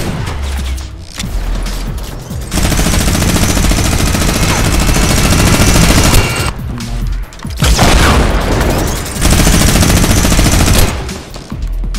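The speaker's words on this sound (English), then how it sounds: "This minigun's pretty sick." A Fortnite minigun fires in long, loud, continuous streams of rapid shots, with three sustained bursts separated by short pauses.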